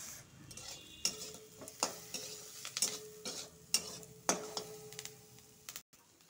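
Curry leaves, onion and mustard seeds fry in a pan, a quiet sizzle under repeated sharp scrapes and taps of a spoon stirring against the metal at irregular intervals, with no one talking.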